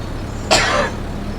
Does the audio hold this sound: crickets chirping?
no